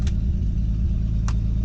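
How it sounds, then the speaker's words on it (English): A Nissan 240SX engine holds a steady, low rumbling idle up close, with a couple of faint brief ticks over the constant drone. "looks like she's holding an idle"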